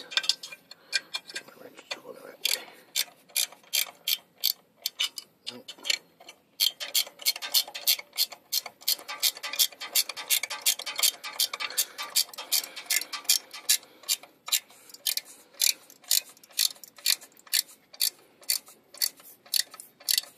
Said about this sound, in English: put my washer, and my nut on. And of course, tighten it down.